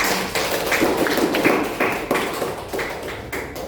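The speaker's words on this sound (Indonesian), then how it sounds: "kasih aplaus buat kita semua" A classroom gives a short burst of applause, many quick claps blending into a dense patter that stays fairly loud and then thins near the end, with no talking.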